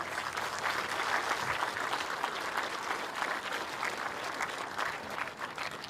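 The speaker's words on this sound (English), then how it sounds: "give yourselves a round of applause" A crowd claps steadily for several seconds at an elementary school ribbon-cutting ceremony, a dense, sustained round of applause with no pauses.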